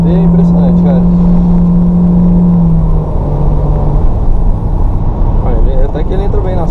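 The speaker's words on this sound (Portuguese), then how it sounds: "Agora a aceleração do câmbio CVT é impressionante, cara." A 2018 Honda Fit 1.5 with CVT accelerates, its steady engine drone and road rumble loud and continuous under a person talking, with a sustained low tone shifting partway through.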